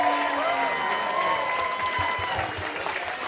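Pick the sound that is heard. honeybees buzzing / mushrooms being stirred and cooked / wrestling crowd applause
wrestling crowd applause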